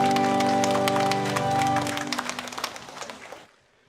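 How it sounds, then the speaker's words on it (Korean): A church congregation claps together at a Sunday service, dense loud applause over lingering organ or keyboard tones that thins into scattered claps and stops abruptly. "우리 주님께 영광의 박수 올리겠습니다."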